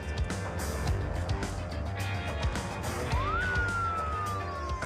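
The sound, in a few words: police car siren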